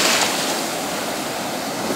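Ocean waves wash onto Digha Sea Beach in a loud, steady roar of surf mixed with wind buffeting the microphone, with no voices.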